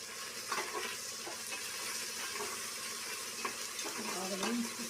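Masala with ginger garlic paste frying in a pan for village-style thalakaya kura, a low, steady sizzle with scattered spoon scrapes and soft clinks as it is stirred, fairly quiet throughout.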